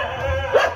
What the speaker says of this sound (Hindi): ये देखो कैसे भौंक रहा है भाई